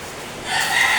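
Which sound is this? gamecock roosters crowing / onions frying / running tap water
gamecock roosters crowing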